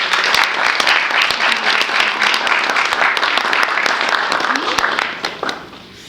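An audience applauds a woman being honoured at an awards evening, with dense, steady clapping through most of the stretch that thins out and fades near the end.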